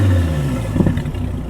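A 2014 SRT Viper GTS engine gives a brief, loud, deep rev close by, rising in a quick burst and then settling back toward a rough idle.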